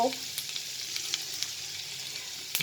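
Chilli flakes and mustard seeds sizzle in butter and white oil, a steady close hiss dotted with small pops and crackles.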